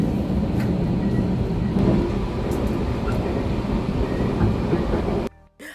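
A GO Transit passenger train from Kitchener to Brampton, Canada, rumbles along steadily with a dense low roar and occasional rattles and clicks, then the sound cuts off abruptly near the end.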